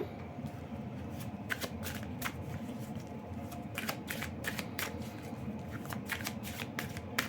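A deck of oracle cards titled love and truth being shuffled by hand, with quick papery riffles and flicks coming in short, irregular bursts, soft and close in a quiet room.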